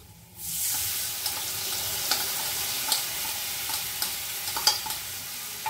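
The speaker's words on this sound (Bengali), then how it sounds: "এবার আলুটা ভাজা হয়ে গেছে আমার, আলু ভাজা হয়ে গেছে, এর মধ্যে আমি মশলাটা দিয়ে দেবো" Fried potatoes sizzle in a pan as spice paste with ground tomato is added. A hiss starts suddenly and holds steady, with regular clicks and scrapes of stirring.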